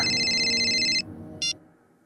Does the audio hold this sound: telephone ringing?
yes